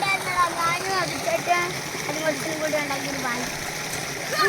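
Rushing stream water flows steadily in the background, heavy where a bridge has washed away, while a person talks excitedly over it, close by.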